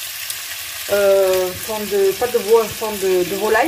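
Chicken with basil, mustard and spices in a pan, with liquid added and sizzling steadily as it cooks, while someone talks over it.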